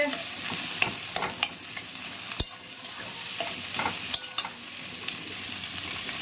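Sliced onions frying in a pan, with a continuous close sizzle broken by scattered scrapes and taps as a spatula stirs them, several crisp knocks standing out.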